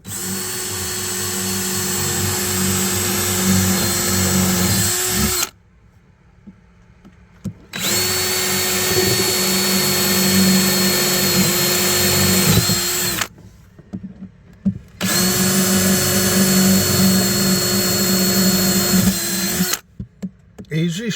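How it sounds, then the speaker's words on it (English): A power drill bores holes in a boat for installing spigots, whining loudly in three long steady runs separated by brief pauses, with faint talk in the gaps. "I'm drilling more holes in the boat."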